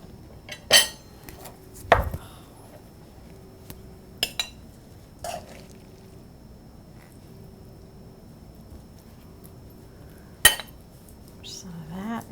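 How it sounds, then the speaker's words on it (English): Metal spoon scraping and clinking against a pot while a gooey melted-cheese dish is given a final stir, a few sharp knocks spaced over a quiet background with faint hum. "I'm gonna give it one more final stir."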